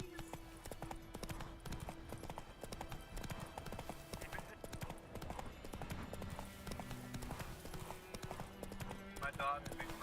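Horse hooves clip-clop in a steady galloping rhythm from a video game, loud and continuous, with a faint whinny and occasional talk mixed in.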